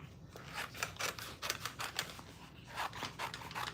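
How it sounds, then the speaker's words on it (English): Scissors snipping through paper while cutting out a Christmas ornament, a run of quick close crisp cuts in an uneven rhythm with a brief pause midway. "So I'm going to cut out"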